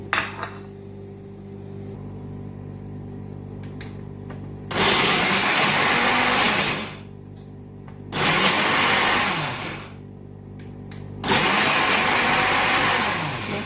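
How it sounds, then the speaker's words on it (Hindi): A mixer grinder chopping browned onions whirs loudly in three separate bursts of a few seconds each, a harsh motor roar with quiet pauses between. "अभी ये जो प्याज मैंने निकाले हैं ब्राउन करके, तो वो मैं इसमें मिक्सी में डालूंगी।"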